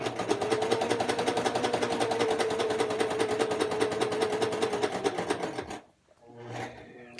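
A sewing machine runs in a steady rapid rattle for about five seconds while stitching a double-ended dart in fabric, then stops abruptly, followed by a brief softer mechanical sound.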